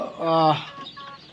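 A country chicken gives a loud, close cluck, followed by softer clucking and fowl noises nearby.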